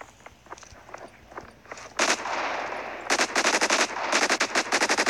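Rapid bursts of gunfire in the mobile shooter Modern Strike Online, with a pistol in use: scattered quieter shots, then loud, dense volleys of close repeated cracks filling the second half.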